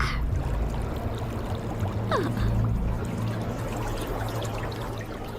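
Low bubbling and churning water in a cauldron with a steady gurgle, plus a faint rising whistle partway through; no voices.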